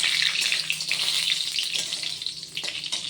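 Crushed garam masala sizzles in hot oil and ghee, a bright, steady crackling fry close by that eases off slightly toward the end.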